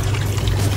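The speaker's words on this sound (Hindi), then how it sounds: "ये देखो पानी आ रहा है, ये सारा पानी निकल रहा" Water gushes steadily from a tap after the supply is turned back on, a loud, continuous pouring rush with no talk over it.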